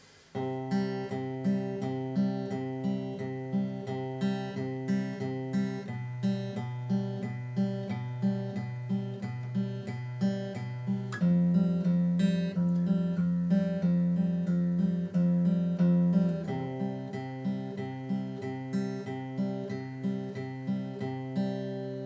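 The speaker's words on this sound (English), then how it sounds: "Instead I put the guitar riff into the bass line" An acoustic guitar plays a riff on its low bass strings, as steady repeated eighth-note plucks with a sustained chord shift midway. It is soft and close, with no voices.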